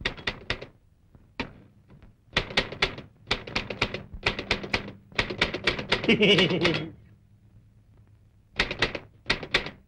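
A typewriter types nearby in quick bursts of sharp clacks, with short pauses between runs of keystrokes and a louder flurry in the middle, in a quiet room.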